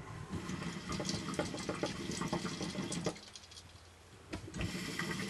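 Water sprays and hisses from a Kaya Rocket garden hose that is not fully sealed at the connector, a steady rushing flow that briefly drops off before surging back.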